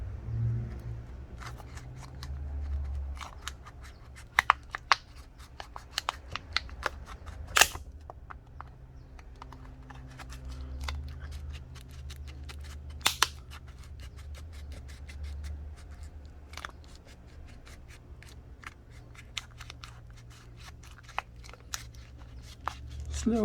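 Plastic pry tool working under the battery of a Samsung Galaxy S20 FE after alcohol is applied, giving scattered close scraping and sharp clicking taps over a low steady hum, with soft voice in the background.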